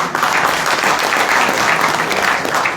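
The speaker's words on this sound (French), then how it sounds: "J'aimerais un tonnerre d'applaudissements à tous nos sponsors." A conference audience in Paris bursts into sustained applause for the sponsors, dense clapping that holds steady and loud from start to finish with no talk over it.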